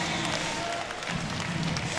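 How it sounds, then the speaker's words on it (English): Spectators at a wrestling match rise for a standing ovation, a dense, continuous wash of applause and cheering that fills the arena at steady loudness. "Crowd immediately springs to the feet, standing ovation."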